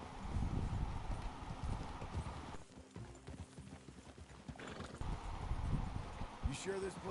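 Horses walking on a trail in Red Dead Redemption 2, their hooves clip-clopping steadily up close, with a neigh or whinny, while game characters speak over the footsteps.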